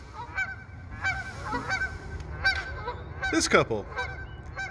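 Several geese honk loudly in repeated, uneven bursts just outside a workplace window, the calls growing busier and overlapping near the end, with a brief murmur of speech underneath.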